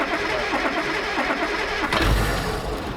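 A Triumph GT6 engine cranks steadily with a little throttle, a loud, continuous churning drone close by, then catches with a deeper rumbling surge near the end.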